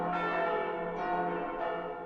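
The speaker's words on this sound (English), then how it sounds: "Wow, that bell looks like photoreal." A large bell in an Attack on Titan anime episode rings out once, leaving a sustained, humming toll that slowly fades with no talk over it.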